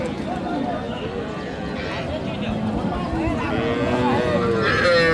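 Cattle low and moo at a rain-soaked outdoor livestock market, with several calls rising over general crowd murmur and people talking nearby.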